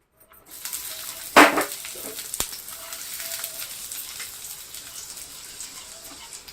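Onion dropped into hot oil for a wood-fired chulivarche mutton masala, with a sharp burst of sizzle on contact that settles into a steady, low frying hiss, plus a single clink.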